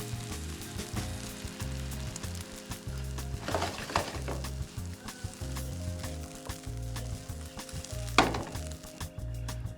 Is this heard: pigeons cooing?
no